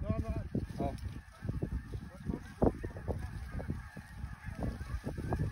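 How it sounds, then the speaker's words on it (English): Geese honk repeatedly during a hunt, a dense overlapping chorus of calls from a flock nearby, with people talking faintly underneath. "Yeah, there is a goose out there yet."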